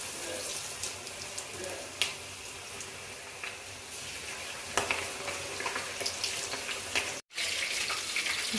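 Coated chicken pieces deep frying in hot oil in a village kitchen, a dense continuous bubbling hiss at close range with a few brief crackles and one abrupt drop near the end.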